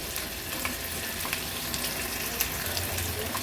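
Finely chopped onion with crushed ginger and garlic fries in oil in a pan, a steady close sizzle and crackle that holds at an even low level with no voices.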